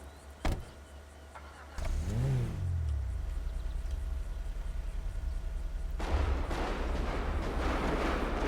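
A car in a video game approaches and rushes past with a rising, then falling engine roar, followed by a steady rumble and a burst of broadband noise near the end, with no talking.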